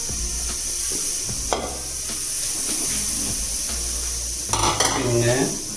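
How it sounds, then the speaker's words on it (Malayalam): Chicken goes into a cooker on a stove for Arabic chicken shorba. Hissing sizzle, stirring scrapes and a few metallic clinks of the pot rise and fall through the clip, with no voices. "നമ്മൾ ആദ്യം ഒരു കുക്കർ എടുത്തിട്ട് സ്റ്റൗവിൽ വെച്ചതിന് ശേഷം ഈ ചിക്കൻ ഇതിലോട്ട്"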